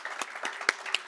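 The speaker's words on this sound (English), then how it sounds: "So let's give them a round of applause." A small audience at a school award announcement claps in a brief, sparse patter of a few distinct hand claps, moderately near and without voices.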